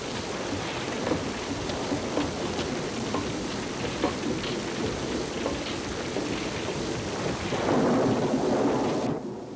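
Steady heavy rain pours down with a dense hiss, low rumbling underneath, and a brief swell of louder downpour near the end before it cuts off.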